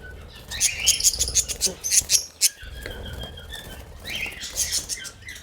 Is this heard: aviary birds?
yes